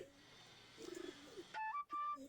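Native Bangladeshi Giribaj pigeons, kept loose around their loft while feeding chicks, give soft pulsing low coos, followed by louder bright tonal calls up close.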